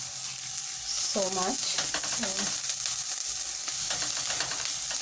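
Onions sizzle steadily in a hot pan with a bright continuous hiss, while a person speaks briefly over the frying.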